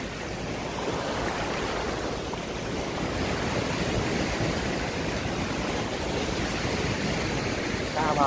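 Sea waves wash steadily onto a white-sand beach at Hon May Rut island off Phu Quoc, a continuous broad roar of surf that stays loud and even throughout with no talk.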